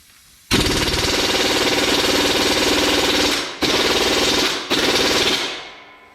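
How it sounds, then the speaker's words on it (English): A Snap-on impact wrench hammers at bolts on a John Deere 5075E tractor during a front three-point hitch install, giving three loud, close rattling bursts, the first long and the next two short, before trailing off. "I switched to my snap-on impact instead of the Ingersoll"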